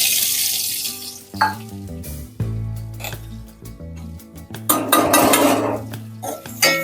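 Green chillies with turmeric and salt are tipped into a hot pan and frying, a steady sizzle mixed with clinks and scrapes of utensils against the pan, close and fairly loud, with no talking.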